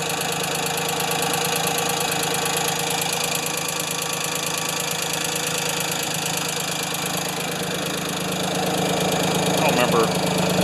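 An old Ford 2600 tractor engine runs at a steady idle with a busy, knocking diesel rumble, loud and close, holding at an even level for the whole stretch with no talk over it.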